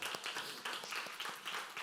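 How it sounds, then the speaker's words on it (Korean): A Korean church youth congregation claps at a Sunday worship service for a member leaving for military enlistment, a faint, even patter of many hands continuing under a roomy, distant ambience. "우리 박수로 격려하도록 하겠습니다."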